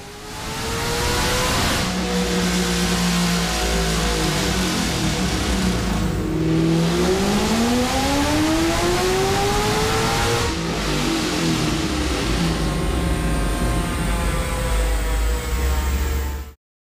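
A 6.2-liter V8 with a 4.5-liter Whipple supercharger in a Shelby GT500 roars loudly and continuously on a dyno, climbing in pitch through a long sustained rev before cutting off abruptly at the end.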